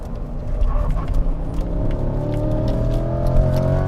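Chevrolet Corvette C8 engine loading up through a track corner, a steady low rumble with rising harmonic drone as it pulls, close and fairly loud with no talking.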